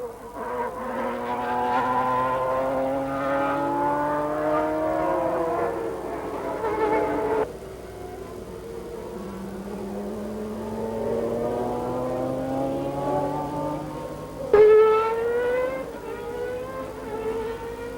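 Ayrton Senna's McLaren Formula 1 car on the final lap of the Brazilian Grand Prix, a high, whining engine note that rises and falls through the gears, with two sharp shifts and a passing roar.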